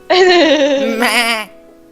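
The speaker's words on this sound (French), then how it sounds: "mais c'est mouton ça" A single loud, wavering bleat like a sheep lasts about a second and a half, close and alone.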